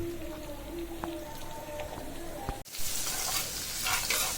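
Onion, garlic and ginger frying in a pan give a soft, close sizzle with faint crackles and a few stirring clinks, then a brief gap and a brighter, louder sizzle near the end.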